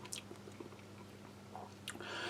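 Close, quiet chewing of a firm, dry, coarse pork sausage from a Chinese Army Type 13 ration, with soft moist bites and mouth sounds and a brief rustle at the end.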